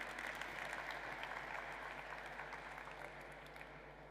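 An audience claps steadily after a talk on collective action, a soft, even patter of many hands that thins slightly toward the end.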